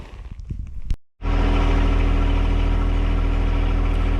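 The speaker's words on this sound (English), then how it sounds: "get my tractor warmed up" A John Deere 1025R compact tractor engine starts after a brief silence and settles into a steady, loud, close idle while warming up in snowy weather, a constant low rumble with no talk.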